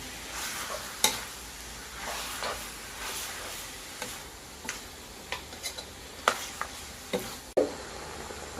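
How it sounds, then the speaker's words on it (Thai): Chicken curry being stir-fried in a pan, with a soft frying sizzle under repeated scraping strokes of a utensil that come in an irregular, roughly once-a-second rhythm, fairly quiet and close, with no voices. "เดี๋ยวเราจะไปคั่วกันต่อนะครับ คั่วกันต่อครับ"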